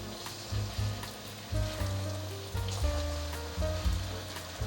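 Taro and tofu deep-frying in hot oil, a steady crackling sizzle with bursts of louder bubbling every second or so, close and with no talking.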